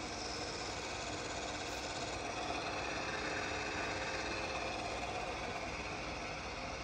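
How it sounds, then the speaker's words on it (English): A Csepel RF 50/1600 radial arm drill runs with its spindle at 800 RPM, giving a steady, even mechanical whir and hum throughout with no talk. "The spindle speed has been increased to 800 RPM."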